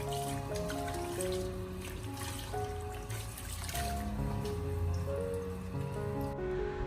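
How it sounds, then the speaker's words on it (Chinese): Blanched duck wings are rinsed by hand in a bowl of cold water, with steady sloshing, squishing and dripping close by as they are rubbed and turned. "把它放进冷水中过冷，而且再次的把它清洗一下。"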